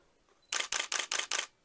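A Nikon D700 full-frame DSLR fires a rapid burst of five shutter clicks from its vertical shutter release, crisp and close, evenly spaced and loud against near silence.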